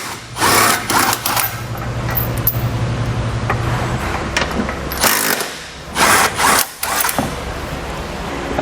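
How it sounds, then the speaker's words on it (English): Ratcheting bursts from a 17mm socket tool loosening the two tow hook bolts on a 2016 Toyota frame, with short rapid clicking runs separated by pauses and a few metallic clanks nearby. "To remove our tow hook, we'll use a 17mm socket and remove those 2 bolts."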